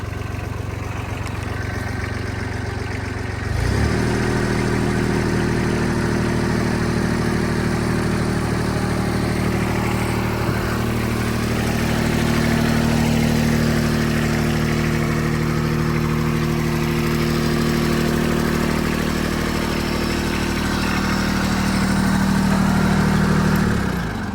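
A Kubota compact utility tractor engine idles steadily and fairly close, with a steady low throb and faint harmonic hum, after a short quieter stretch at the start, with no talk over it.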